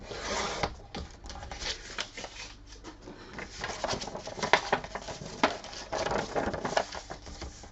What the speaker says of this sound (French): vous récupérez tout simplement votre enveloppe que vous coupez comme je suis en train de faire là